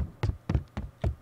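Four quick, crisp footfalls in an even running rhythm in the horror game True Nightmares, close and distinct against a quiet background.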